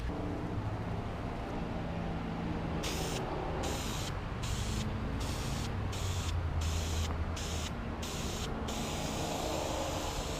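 Ceramic coating sprayed outdoors from an aerosol can onto an exhaust manifold and downpipe, heard as a steady hiss under broadband wind-like noise, then a run of about eight short bursts with brief gaps between them, close and fairly loud.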